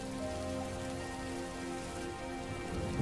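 Steady heavy rainfall drums on surfaces in a farming village, an unbroken, even wash of close drops with a faint low rumble beneath and nobody speaking.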